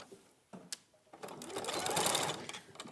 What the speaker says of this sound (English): where I've already sewn, I'm going to aim to sew in the same place again